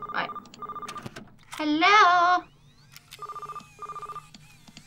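A telephone rings in The Night Shift: Iggy's Funhouse video game, two short ring bursts near the start and two more near the end, with a brief spoken greeting and another loud voice in between.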